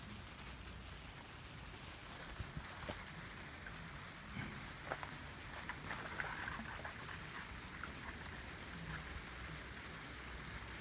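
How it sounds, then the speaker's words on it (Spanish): Water is poured onto a soil box in a runoff erosion experiment, giving a steady, hissing patter and trickle like rain on a surface that continues without a break. "Siempre se le echa la misma cantidad de agua a todos."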